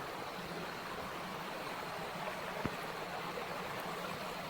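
River water rushing strongly after recent rain, swollen and fast-flowing near an old monastery in a natural setting, a steady broadband roar that fills the clip without a break.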